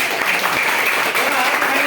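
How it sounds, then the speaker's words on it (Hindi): Audience at a DXN marketing-plan meeting applauding, a loud, continuous burst of clapping with a faint voice under it. "स्टार सबके लिए एक बार जोरदार ताली हो गई"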